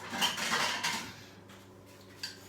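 A bowl being taken out from among kitchen dishes: clinking ceramic and cutlery rattling for about a second, then quiet with a faint clink near the end.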